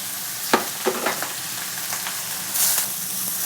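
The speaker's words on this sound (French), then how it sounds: "j'ai déjà bien chauffé l'huile, hein, parce qu'il faut que ça soit bien chaud. Là, pardon, on va mettre les échalotes et les oignons." Shallots and onions hit very hot oil in a restaurant pan, producing a steady close sizzle and frying hiss with a few sharp crackles and stirring clatters early on, alone without talk.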